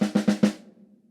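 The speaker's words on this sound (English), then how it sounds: "I've got a set of 16th triplets on my snare drum." A quick run of four crisp snare drum hits, evenly spaced in a rapid triplet rhythm, played as part of a drum solo, each strike close and loud before the last one rings out and decays.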